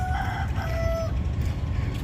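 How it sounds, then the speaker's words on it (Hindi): Roosters crow at sunrise on a river ghat, one long clear cock-a-doodle-doo rising over a steady low rumble of background noise, fairly loud and close, with no speech. "यहाँ मुर्गे बहुत कुकड़ों कर रहे हैं।"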